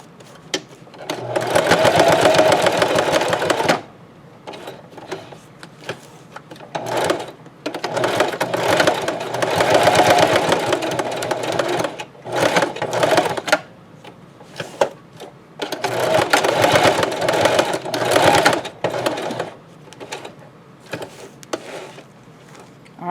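A sewing machine stitching black thread through a Dollar Tree potholder, running in three long loud bursts with shorter stops and start-ups between them, up close.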